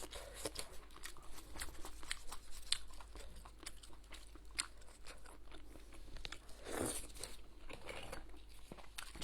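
Close, crisp crunching and chewing of greasy meat dishes such as lamb ribs and lamb tripe during a Chinese mukbang, irregular bites and crackles in a quiet room with no talking.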